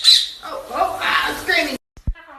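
A parrot lets out a loud, harsh scream close up, followed by a short silence and a couple of brief squawky chirps.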